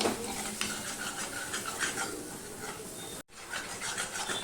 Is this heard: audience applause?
no